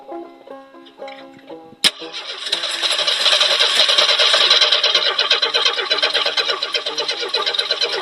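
A Jeep engine cranks on a cold hard start, an irregular chugging turnover after a sharp click, then a rapid rattling, rough running burst that holds loud for several seconds before easing.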